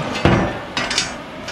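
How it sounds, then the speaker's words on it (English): A chipping hammer knocks dross off steel cut with an oxy-acetylene torch, giving a few sharp metallic clacks, one strong strike followed by two lighter taps, close by with no talk. "There you can just kind of chip it off with a chipping hammer as you need to."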